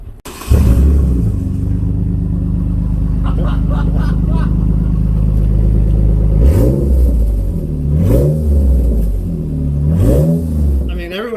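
Jeep Liberty with a Gibson exhaust and no muffler starting up and idling loud and close, then revved in repeated throaty bursts; voices talk over it.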